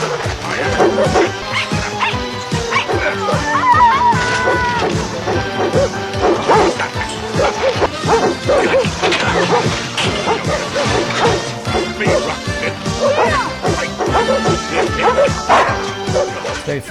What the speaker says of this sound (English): So then Scrapper and Hambone bark at each other for 20